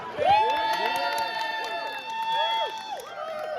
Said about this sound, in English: I think that has to be the loudest cheer all night